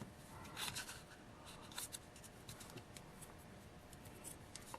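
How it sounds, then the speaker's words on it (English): Scissors cut paper for a paper bead angel, giving faint, close snips and light paper rustle in an irregular rhythm. "Cut it on the edges that are going to get cut away."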